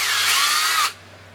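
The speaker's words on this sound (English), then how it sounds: "what you're going to do is drill all the way through" A power drill bores through wood on a porch during a shade blind install, one short, close whine lasting under a second that dips slightly in pitch before stopping abruptly.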